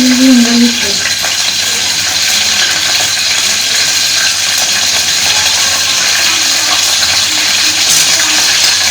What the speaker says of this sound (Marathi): आता पहिल्यांदा याच्यामध्ये थोडीशी जिरे आणि मोहरी मी टाकणार आहे